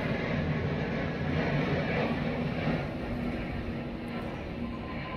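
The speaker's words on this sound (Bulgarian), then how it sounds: "чакай да мине самолета" An airplane passing overhead outdoors, a broad steady roar that swells in the middle and slowly fades toward the end, heard without speech.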